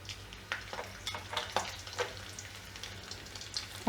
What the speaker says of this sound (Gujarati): ઘી ગરમ થાય એટલે આપણે એમાં લસણ એડ કરશું